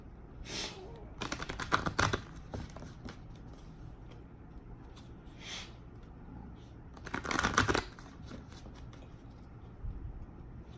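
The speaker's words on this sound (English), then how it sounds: "I'm just going to pull a numerology guidance card for y'all as well." Numerology guidance cards being shuffled by hand: several quick riffling bursts of papery flutter, near and fairly quiet, with pauses between them and no talk.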